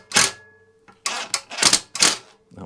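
Metallic ratcheting and clanking from a tool undoing a hard steel bolt on a wood chipper blade, four loud close bursts separated by short pauses.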